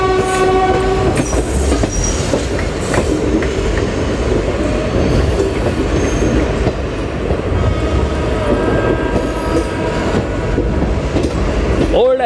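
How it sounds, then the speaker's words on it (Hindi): A Garib Rath Express runs past Masjid Bunder station in Mumbai without stopping, with loud continuous wheel rumble and clatter heard from on board, short horn notes near the start and a closing horn blast. "तो मस्जिद बंदर रेलवे स्टेशन को ट्रेन अभी स्किप कर रही है।"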